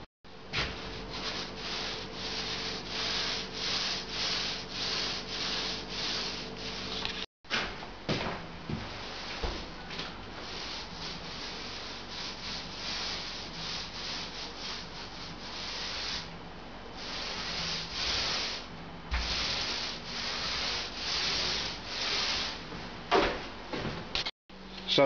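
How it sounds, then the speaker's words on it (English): Close, continuous brush strokes of oil-based enamel paint across a particle board kitchen cabinet door: a steady rubbing swish that repeats over and over with only a brief pause. "So I'll go ahead and give this door a coat now."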